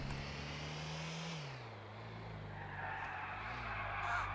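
A minivan drives and skids in the video game GTA IV, with a steady engine drone that drops in pitch, then the sustained squeal of tires sliding over the road, heard close and without talk.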